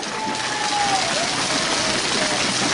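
Crowd applause at a campaign closing rally in Misantla, a dense, steady wash of many hands clapping throughout, loud and continuous with no one speaking over it.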